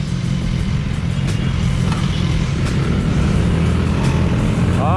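Honda Beat 2020 scooter being ridden, its engine giving a loud, steady drone with wind rush, continuous and close throughout.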